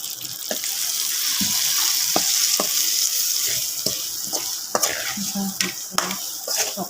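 A spoon stirs a mixture of chili powder and pepper powder as ivy gourd fries in a pan. Irregular scraping knocks sound close over a continuous sizzle, with no speech.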